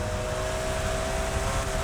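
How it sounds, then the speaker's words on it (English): A police helicopter in the racing video game Need for Speed Heat drones overhead as a constant, dense engine and rotor rumble with a steady tonal hum, with no talk in the clip. "There's another chopper."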